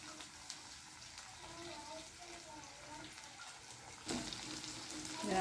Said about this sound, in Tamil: நடுவில் இருக்க அந்த எண்ணெயில் வந்து நம்ம இந்த முட்டையை வந்து அதில் ஊற்றிடுவோம்